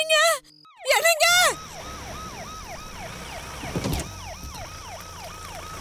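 Ambulance siren wailing in a repeating rising-falling pattern at moderate distance, preceded by a few sharp loud electronic tones at the start, with a brief thump partway through.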